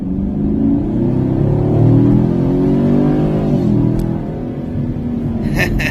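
A 2019 Chevrolet Camaro engine revs and accelerates with a loud, steady low rumble that climbs in pitch and then eases off, heard close with no talking.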